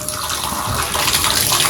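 Water gushes loudly and steadily from a bathtub faucet after the taps are turned back on, near and continuous with no talking, while a faulty tub diverter fails to retract.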